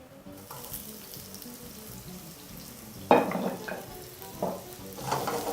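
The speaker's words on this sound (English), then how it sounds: "as soon as your pan is nice and hot, proceed with your first ingredient, which would be your onions" Onions hitting a hot pan for chicken fried rice, setting off a sudden sizzle partway through, then continuing to fry with light stirring and scraping noises, fairly close and with no voices.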